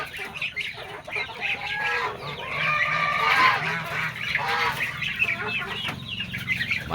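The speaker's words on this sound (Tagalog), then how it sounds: "Ayan yung mga alaga kong gansa." Pet geese honking noisily close by, a flock of overlapping nasal honks and clucks that rise and fall continuously after feeding time.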